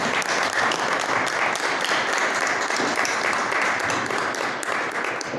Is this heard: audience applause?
yes